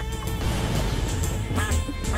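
Ducks quack repeatedly in a video game, a loud cluster of overlapping nasal quacks and honks close up, continuing throughout with no talk.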